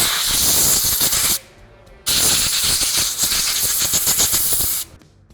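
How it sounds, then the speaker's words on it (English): Compressed air blasting out a King coilover part during a rebuild service, a loud close hiss in two long bursts split by a short pause, with no talk. "then we'll just blow it out with some air"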